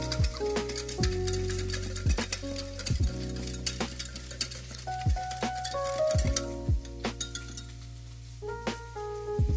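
A utensil stirs a sauce with pepper and packed brown sugar in a bowl for Korean beef, giving a steady run of light, close clinks and taps against the bowl.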